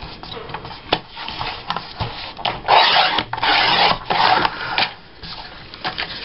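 Paper being trimmed for Christmas tags, cut down to strips about 2 3/4 inches wide, giving several bursts of rasping, rubbing sound at close range with short pauses between strokes.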